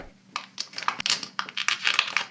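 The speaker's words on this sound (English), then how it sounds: "I was able to get the rest of the black layer of reflective black film to pull off all at once" Black reflective film being peeled from the back glass of a OnePlus 6 phone, a close series of crackly, crinkling tearing bursts in uneven pulses with no talking.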